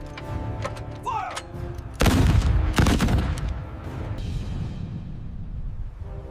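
Cannon and gunfire boom out in a staged naval battle at Thị Nại lagoon in 1801, with galleys firing on shore batteries: scattered shots build to two loud, close blasts, then rolling gunfire under faint background voices.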